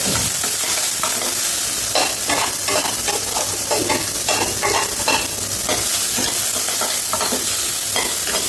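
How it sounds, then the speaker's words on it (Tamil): Onions frying in a pan while being stirred, a loud, steady sizzle broken by repeated scraping strokes, close and continuous with no voices. "நல்லா வெங்காயம் வதங்கி வரது"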